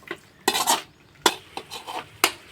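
A spoon scrapes and clatters against a pan while cauliflower masala cooks down in oil, a series of sharp metallic stirring knocks and scrapes at uneven intervals, close and clear with no talking.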